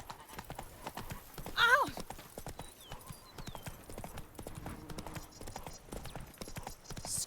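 A horse gallops through The Witcher 3, its rapid hoofbeats steady and close, with a brief whinny early on and a short spoken exclamation over the run.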